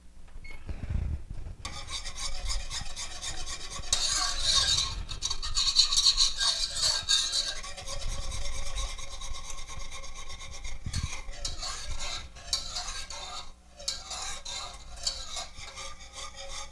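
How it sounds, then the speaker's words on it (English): A whisk scrapes and rasps against a pot, stirring chocolate cream pie filling over medium-low heat in a steady, close, continuous scratchy rhythm with small bumps, no voices. "I still have it on medium-low heat, and I'm whisking it."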